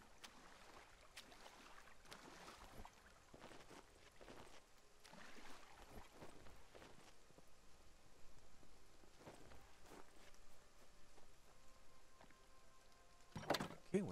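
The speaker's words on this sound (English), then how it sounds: "It's raining." Steady rain falls in The Front survival video game, a soft continuous patter with occasional louder drops and a sharp burst near the end, no talking over it.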